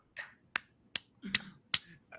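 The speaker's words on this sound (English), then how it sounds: "I gotta clap again for that." Six sharp hand claps or snaps from one person, spaced unevenly about half a second apart, crisp and close with quick decay and near silence between them.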